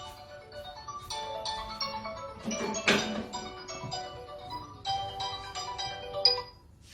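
A mobile phone ringtone plays a quiet, tinkling melody of repeated bright notes that rises and falls in short phrases, heard alone without any talking.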